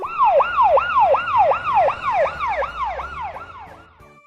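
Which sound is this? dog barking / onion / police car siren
police car siren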